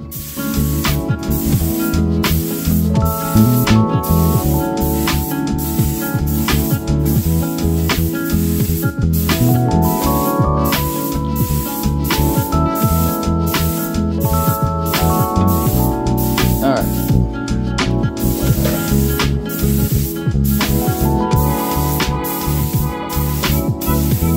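A spray gun spraying Rust-Oleum paint hisses steadily and loudly for the whole stretch, with a dense, continuous rush of spray and brief pauses between passes.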